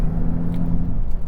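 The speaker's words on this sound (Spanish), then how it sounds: "Se escuchan los ruidos del motor Nettuno" Maserati MC20 with its Nettuno engine, a steady low rumbling drone heard from close by, constant and even throughout with no voices.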